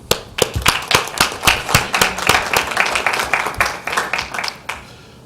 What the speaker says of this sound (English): we just applaud you once again for your great efforts.